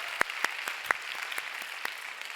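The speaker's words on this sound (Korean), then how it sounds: "방송팀에게도 박수로 함께하겠습니다." A church youth-service congregation claps for the broadcast team, a sparse, fairly quiet patter of hand claps with several sharp, distinct claps standing out near the start and fading toward the end.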